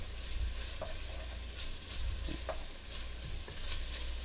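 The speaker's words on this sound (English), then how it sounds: "Nothing like a good old onion frying up." Onions and garlic fry in a pot for a sausage and bean soup, giving a steady close sizzle with a few soft stirring clicks and scrapes throughout.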